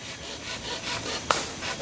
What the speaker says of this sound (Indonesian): Menggunakan gergaji yang memang khusus mereka buat untuk memotong bambu, agar mempermudah pekerjaan mereka.